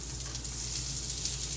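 Unsalted butter melts in a pan with a steady, soft sizzling hiss, close by and continuous, with no voices.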